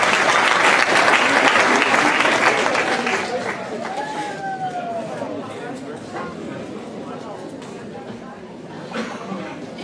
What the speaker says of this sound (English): Let's give a round of applause to the 10 and under